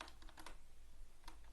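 Keys on a computer keyboard tap quickly in a brief, quiet burst of clicks, followed by a pause and then one more click, with no one talking.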